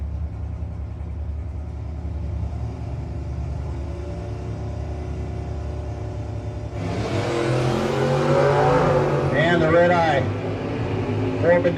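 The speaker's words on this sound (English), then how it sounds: "Bendekovitz 6th out early, going to put Cam Murray in the next round." Drag racing cars at a No-Box 660 shootout, a low idling rumble that swells into a loud roar and revving as the cars launch down the strip, with an announcer talking throughout.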